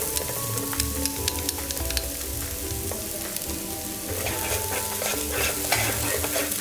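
Minced ginger and lemongrass sizzle and crackle steadily in hot oil, with scattered spoon scrapes and stirring clatter close by.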